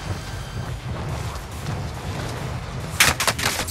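Gunfire in the Warzone video game: a sudden loud burst of several rapid shots near the end, after a steady low background rumble.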